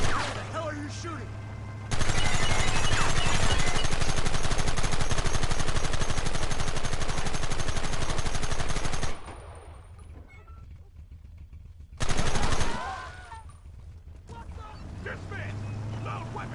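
Machine gun fire in Red Dead Redemption, a long loud continuous burst of rapid shots, then a quieter pause before another short heavy burst, with voices calling out around it.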